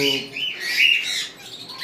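A pair of conure parrots at a bird farm give bright, high chirping calls that rise and fall across the whole stretch, close and fairly loud over faint background sound.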